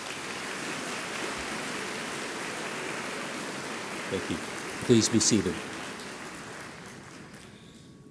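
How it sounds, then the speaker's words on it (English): Commencement ceremony audience applauding, a steady dense wash of clapping that fills the hall, briefly overlaid by a speaker's voice near the end as the clapping fades out. "Please give them a round of applause."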